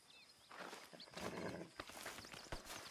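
A horse in Red Dead Redemption 2 stands close by, its hooves clopping and shuffling over the ground. Soft snorts and small whinny-like sounds come in between the steps, with no one talking.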